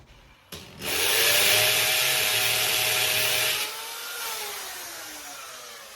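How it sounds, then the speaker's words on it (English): A loud hammer drill whirs steadily into a concrete garage wall for about three seconds, then winds down to a lower hum; no voices. "I switch over to the hammer drill function"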